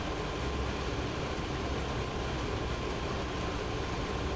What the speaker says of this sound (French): on croise pas mal de trains de marchandises pour l'instant